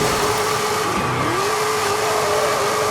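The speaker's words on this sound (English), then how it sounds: "Now let's see what our drift truck can do." A Ford F-450 drift truck in Forza Horizon 5 drives with a steady mid-pitched engine drone that dips briefly and climbs again, loud and continuous with no talk.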